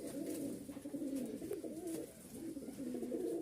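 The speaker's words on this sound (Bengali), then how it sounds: "আরেক জোড়া কবুতর নিয়ে আসছি" Pigeons coo in a steady stream of low, warbling calls, close and clear, with no speech over them.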